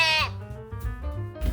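Sheep bleating in a series of drawn-out, wavering calls, loud and close, with no other sound.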